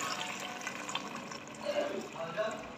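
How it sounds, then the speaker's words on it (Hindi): Water pours into a cooking pot of fried potatoes and beef for aloo gosht, a short steady splashing stream that gurgles as the liquid fills. "अब जितना शोरबा हमें चाहिए उस हिसाब से हम इसमें पानी ऐड"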